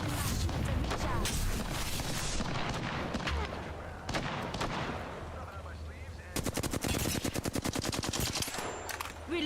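Rapid automatic gunfire rattles in the video game Apex Legends, dense bursts of shots opening the stretch and a sharp sustained volley near the end, loud and close.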